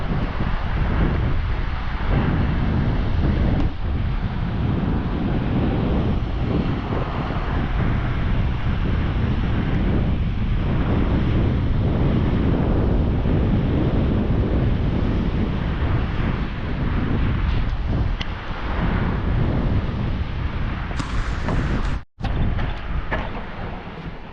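Strong wind gusts roar across the microphone at a Michigan beach, with surf washing underneath in a loud, continuous rumble and a brief dropout near the end.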